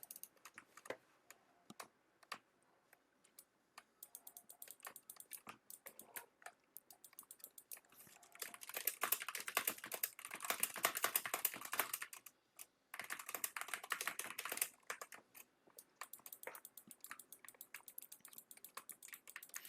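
Typing on a computer keyboard during a gaming session, a steady run of close, crisp key clicks that thickens into faster bursts midway, then settles back to lighter tapping with brief pauses, no talking.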